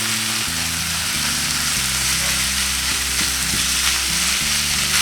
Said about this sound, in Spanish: A continuación agregamos 500 gramos de carne molida,